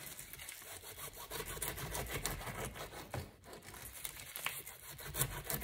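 A knife cuts a pineapple into small pieces with quiet, repeated rasping, sawing strokes close up. The strokes vary in rhythm and intensity, and there is no talk.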